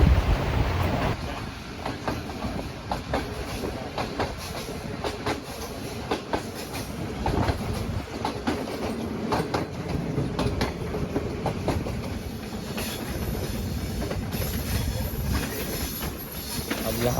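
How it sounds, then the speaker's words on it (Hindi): A non-stop Awam Express passenger train travelling from Rawalpindi to Peshawar at about 50 km/h gives a steady, loud rumble with continuous clickety-clack from the wheels on the rails, recorded from on board. "ट्रेन हमारी नॉन स्टॉप 50 की स्पीड के साथ गुजर रही है।"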